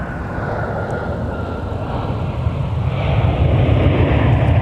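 A UPS Airbus A300 jet comes in to land at MSP airport with a steady, deep engine roar that swells slightly louder toward the end, heard alone without talk.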